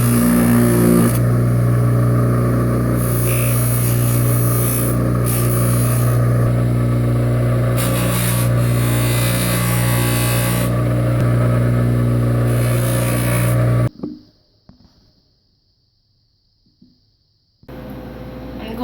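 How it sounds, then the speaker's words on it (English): Buffing machine working a silver jewelry piece, a loud, steady motor hum with a strong low drone and a bright whirring hiss, running continuously before cutting off abruptly near the end. "The next step is buffing the piece."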